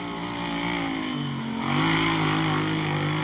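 A stock truck engine roars steadily as it goes over a jump during a brush run race at Crandon, with the pitch dropping briefly before a louder, lower drone picks up and holds.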